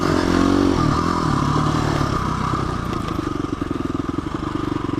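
A motorcycle with loose, unsorted suspension rides along a one-way road, its engine droning loud and close with clattering rattles and a steady pulsing beat as it settles into cruising.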